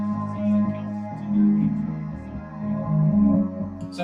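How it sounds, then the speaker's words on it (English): Sustained string tones swell and shift through a slow chord progression over a song intro, soft and smooth with no other instruments standing out. "Now we're gonna add some strings to the intro of the song"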